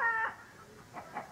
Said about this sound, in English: today we're at Uncle Donald's farm. Looking at the chickens